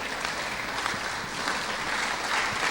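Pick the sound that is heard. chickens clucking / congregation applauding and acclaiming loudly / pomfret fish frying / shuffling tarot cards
congregation applauding and acclaiming loudly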